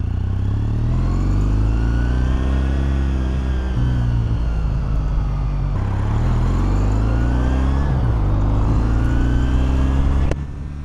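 A Kawasaki W800 motorcycle's exhaust rumbles steadily up close while riding at a casual pace, its deep throbbing note rising and falling through gear changes without any talk over it.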